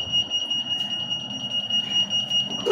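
A fire alarm on a hacked fire alarm system model emits a steady, high-pitched electronic tone that holds unbroken throughout, fairly loud against faint background noise, with no voices.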